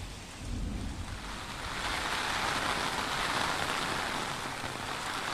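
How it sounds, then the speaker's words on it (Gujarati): Heavy rain lashes down with gusty wind in Ahmedabad's Prahladnagar area, a dense, continuous roar of downpour that swells slightly, with no voices. "અત્યારે અહીંયા જે રીતે પવન સાથે ધોધમાર વરસાદ વરસી રહ્યો છે"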